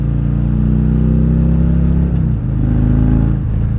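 A Harley motorcycle engine revs hard in second gear toward high RPM, a loud, close, continuous drone that holds steady, dips briefly, then climbs again, with no talking.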